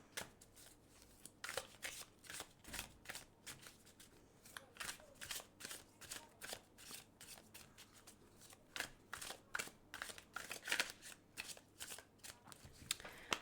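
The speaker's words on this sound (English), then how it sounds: "So I'm going to shuffle this deck" Deck of playing cards being shuffled repeatedly at close range for a tarot-style reading, with crisp riffling bursts in a steady irregular rhythm and no talking.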